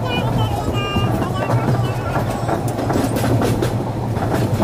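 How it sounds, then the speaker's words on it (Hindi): A train rolls and picks up speed, steady rumble with clickety-clack of wheels over rail joints and a brief whine, heard close and continuous from near the open door, with some faint voices in the background. "अभी ट्रेन रुकी थी तो मैं भी आ गया बाहर, अभी ट्रेन रफ्तार पकड़ रही है।"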